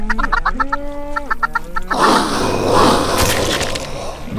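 Minecraft chickens in a chicken farm, a burst of loud clucks and rooster-like calls up close, followed by a dense, noisy wash of overlapping game sounds.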